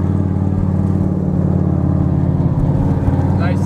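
An 800HP Dodge Viper ACR engine drones loudly and steadily through a turn, its deep, rich harmonic growl holding even throughout, heard up close from inside the car.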